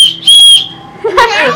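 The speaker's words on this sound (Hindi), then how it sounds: "पापा बजाने लग गए सीटी।" A person blows a whistle at home, giving a few loud, shrill pitched blasts close by, with a brief voice and household noise between them.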